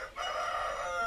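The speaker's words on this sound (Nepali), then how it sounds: "अब कुखुराहरू कराएको कराएको छ।" A rooster crows nearby on a Nepali village farm, one sustained, strained call lasting about a second, clear and alone.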